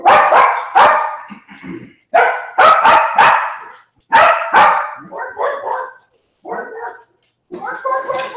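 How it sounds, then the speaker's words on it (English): Dogs bark in quick bursts of two or three sharp barks, loud and close, with short pauses between volleys. "the dogs are barking"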